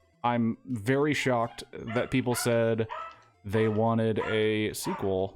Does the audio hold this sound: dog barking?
yes